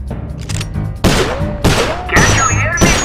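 Rapid bursts of gunfire in the video game Sly Cooper: Thieves in Time, loud and close, arriving in several punchy volleys with a voice speaking between them.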